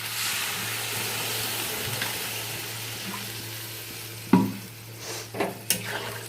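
Sizzling vegetables in a pan sputter as water goes in while they are stirred, a continuous frying hiss that fades after a sudden loud splash, followed by a few scraping knocks of the spoon against the pan.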